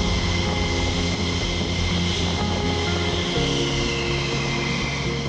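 Steady, loud roar of an interceptor jet aircraft engine while taxiing, a continuous drone close by with no talk.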